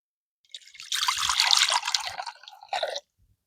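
Water is poured into a drinking trough for animals, a close splashing, trickling stream that starts abruptly, runs for a couple of seconds with a brief pause, then stops.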